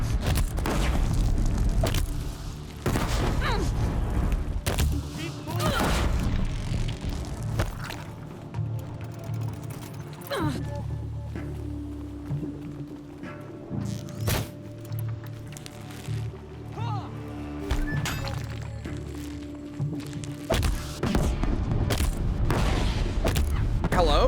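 Bombs explode during a Horizon Zero Dawn battle, loud booming blasts bursting repeatedly amid dense game combat noise, with a voice talking over parts of it.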